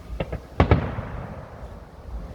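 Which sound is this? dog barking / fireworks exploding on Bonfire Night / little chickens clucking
fireworks exploding on Bonfire Night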